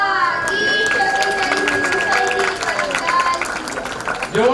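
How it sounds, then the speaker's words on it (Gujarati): A crowd at an annual children's school festival program bursts into strong applause, dense clapping that fills the hall while voices carry over the top. "જોરદાર તાળીઓ"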